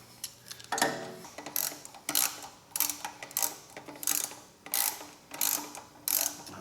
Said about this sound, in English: all we have to do is just bolt this back together